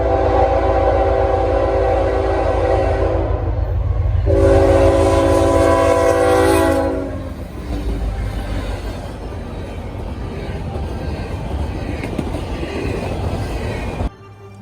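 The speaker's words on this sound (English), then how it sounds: "The first was a regular intermodal." A CN intermodal freight train on the Iron Range rumbles steadily past close by, with a loud horn blast early on, then continuing wheel and wagon noise.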